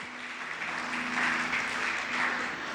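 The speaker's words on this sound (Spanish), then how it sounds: "Vamos a darle un aplauso a Cristal." Applause for Cristal, a volunteer at a Christian sermon event, fills the room as a steady, moderately loud wash of clapping from a gathered congregation, with no voices over it.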